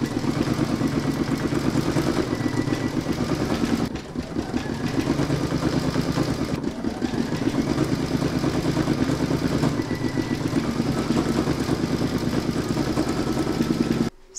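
An embroidery machine stitches the Harvest Gold centre of an in-the-hoop poinsettia bunting design, giving a steady, loud mechanical whirring and rapid clatter that runs almost the whole time, with two brief dips.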